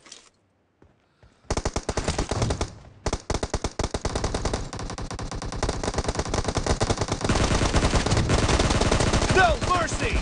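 Shotgun fire in a PUBG team deathmatch: after a brief near-silent opening, loud close shots crack in rapid, dense succession, running almost continuously to the end with a few short gaps.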